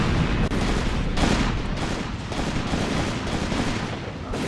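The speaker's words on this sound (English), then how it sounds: "Infantry guns firing." Dense, continuous volleys of infantry gunfire and distant booms from the WWII strategy game Graviteam Tactics, a loud unbroken battle din with overlapping shots and no speech.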